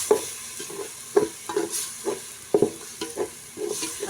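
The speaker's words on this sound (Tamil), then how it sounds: "நல்லா பச்சை வாசனை போகிற வரைக்கும் வதக்கி விட்டால் போதும்." Ground spice paste being sautéed in a pan, with a steady sizzle broken by repeated scraping stirs at an uneven rhythm, close up and with no talk.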